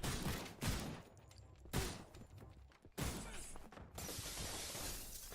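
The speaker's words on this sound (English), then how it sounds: "Does he go through the glass? He goes through the glass." Glass shatters again and again in a video game under development, in several loud crashing bursts with tinkling debris between them, dense and close, with no talk over it.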